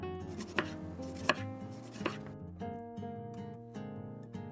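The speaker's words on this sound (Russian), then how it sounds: "кружочками порежу 3 средних помидора. Кружочки помидоров также я режу довольно толсто." A knife cuts three medium tomatoes into thick rounds on a board for a marinated zucchini and onion salad, giving a series of soft, evenly spaced chopping knocks, close and without talk.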